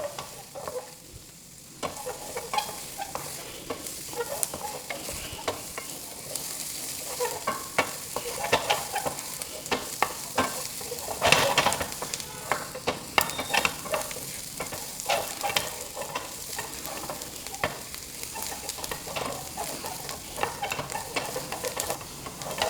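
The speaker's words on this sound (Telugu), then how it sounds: "ఆనియన్ అన్నీ వేసుకొని ఫ్రై చేసుకోవాలి ఆనియన్ వచ్చేసి గోల్డెన్ కలర్ వచ్చేదాకా లైట్గా ఫ్రై చేసుకోవాలి" Onions sizzling and frying in a pan for paneer 65, with steady crackle and occasional stirring scrapes, moderately close and without talk.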